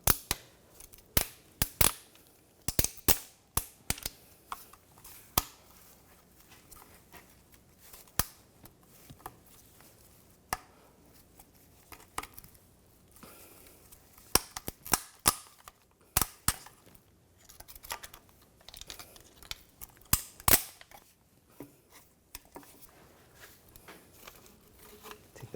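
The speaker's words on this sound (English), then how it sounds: "Just using a trim tool just to pry this." Plastic trim tool prying retainer clips off a 2013-2019 Ford Escape 2.0L L4, giving sharp, irregular snaps and clicks scattered through a quiet workshop background, some clustered in quick bursts.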